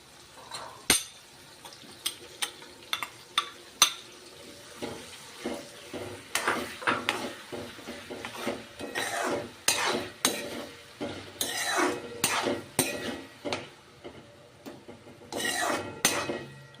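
Potatoes cooking in oil for an eggplant, potato and tomato curry are stirred with repeated scraping spatula strokes against the pan, rhythmic and close over a soft sizzle.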